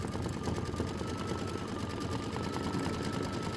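A sewing machine works a decorative dandelion stitch on a quilt block, giving a steady, dense mechanical whir that continues evenly throughout, close and alone.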